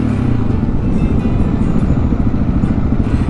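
Motorcycle engine revving hard during a wheelie, a loud, steady, rough drone held close for a few seconds with no talk.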